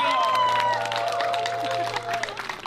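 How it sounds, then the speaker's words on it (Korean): Church audience applauding to welcome a guest performer onto the stage, a steady wash of clapping from a crowd, with music and voices mixed underneath. "박수로 맞이해주세요"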